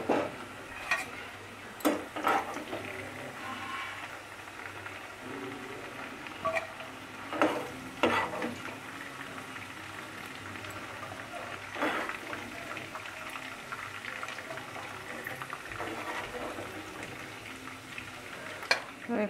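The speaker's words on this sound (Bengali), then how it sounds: "এই ফুলকপি, এই সবজিগুলো আর কি সব ভাজা হয়ে গেছে," Cauliflower and other vegetables fry in a pan for mung dal, a steady soft sizzle broken by scattered clinks and stirring scrapes, with no talking.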